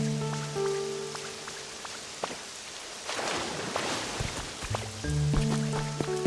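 Rain in the video game Pokemon Pokopia, a steady hiss of falling drops that swells in the middle and mixes with soft tonal game music at the start and end.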